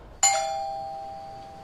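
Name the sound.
doorbell ringing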